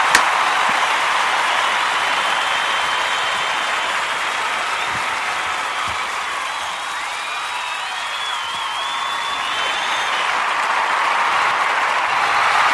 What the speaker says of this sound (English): So we get an extra round of applause